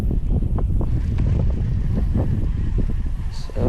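Gusty wind buffeting the microphone while fishing outdoors, a loud rumbling roar with irregular bursts throughout, under someone talking.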